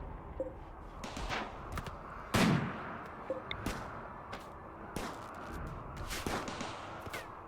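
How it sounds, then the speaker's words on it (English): Turrets in the video game RimWorld fire in a quick series of sharp, scattered shots, with one heavier blast standing out among lighter cracks over a low background. "I guess I'll leave the turrets on just to mess with them."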